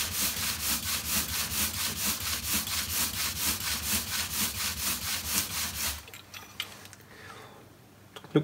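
A hand plane blade is rubbed up and down on a 1500 grit sharpening stone, making about twenty evenly paced, loud abrasive scraping strokes that stop abruptly, followed by faint handling sounds.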